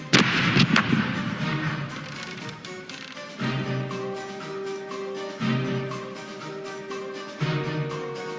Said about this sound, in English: Starboard cannons are ready to fire!